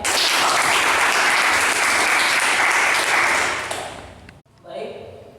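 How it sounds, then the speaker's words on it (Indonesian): A classroom of vocational students claps in loud, dense applause for about four seconds, then the clapping stops abruptly and a voice speaks briefly. "Tepuk tangan buat Dedek."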